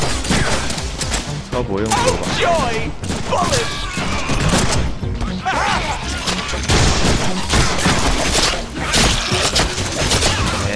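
Gunfire in the Deadpool video game, a dense and loud barrage of shots and impacts running throughout with game music and someone shouting over it.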